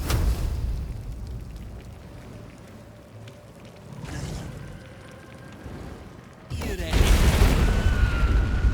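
A Wall of Fire spell erupts in the video game Baldur's Gate 3 with a loud whooshing burst and roaring flames. A quieter rumble comes first, and voices talk over the background.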